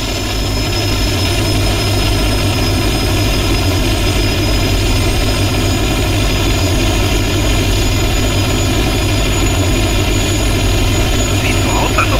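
Su-25T jet engine in the DCS flight simulator after landing, a loud steady turbine roar and whine that holds constant throughout with no pauses or talk.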